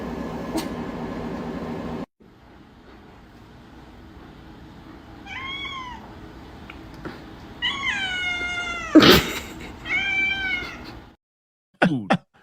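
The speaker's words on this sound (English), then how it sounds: "The cat wants its food. That's why you hear the cat in the background." A hungry cat meows for food, several drawn-out, wavering meows in the second half, close and fairly loud, after a stretch of background noise and a pause of near silence.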